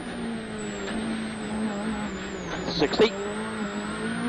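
WRC rally car, Hirvonen's, on the 2011 Spain power stage, its engine a steady droning whine heard from inside the car with a brief louder burst near the end, under talk from the co-driver.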